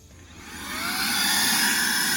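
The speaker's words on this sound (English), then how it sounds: "a small fine blower that fits in here. We'll see what that does." A SAKER 3-in-1 vacuum cleaner's blower attachment runs, its whine climbing steadily in pitch and loudness as it spins up to a high, constant roar.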